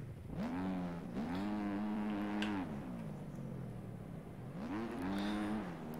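A GasGas 250 two-stroke motocross bike engine in MX Bikes, revving in loud rising and falling bursts with shifting pitch, steady and close throughout.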